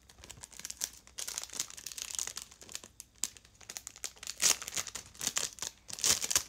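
Plastic-wrapped stickers crinkle close up as they are handled, with irregular bursts of crisp rustling and crackling that come and go in quick, uneven handfuls.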